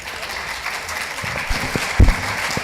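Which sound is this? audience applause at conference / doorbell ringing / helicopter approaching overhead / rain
audience applause at conference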